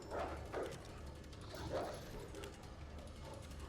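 A puppy in Resident Evil 2 Remake gives a few short yips and barks near the start and again around the middle, mixed with low mechanical game ambience and faint talk.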